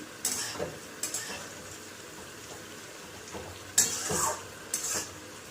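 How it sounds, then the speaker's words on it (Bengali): Low steady sizzling of food frying for rice, broken by a few scraping stirs of a utensil against the pan at irregular moments. "এটা ভেজে নিচ্ছি"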